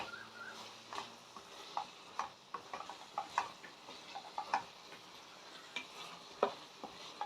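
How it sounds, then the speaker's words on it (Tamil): Chopped capsicum sautéed in a pan for capsicum paneer butter masala, with a steady low sizzle under repeated scraping and stirring clicks of a spoon against the pan, close and moderately loud, no voices. "கட் பண்ணி வச்ச கேப்சிகம் சேர்த்து நல்லா வதக்கி விடுங்க"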